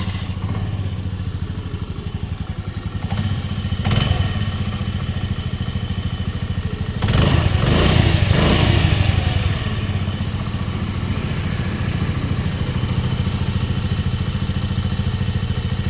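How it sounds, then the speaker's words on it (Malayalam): A 2017 Honda Dio scooter engine runs steadily at idle, loud and close, with a steady mechanical clatter and brief revs or bumps partway through, and no talking. "നമുക്ക് വണ്ടി ഒന്ന് സ്റ്റാർട്ടാക്കിയിട്ട് ഇന്നൊരു അവസ്ഥ നമുക്ക് നോക്കാം"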